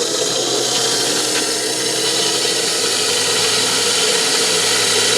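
A Commander pump motor runs steadily and close, a continuous broadband whir with a faint watery rush, holding an even level throughout with no talk.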